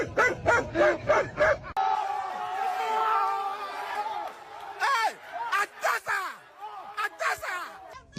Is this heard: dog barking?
yes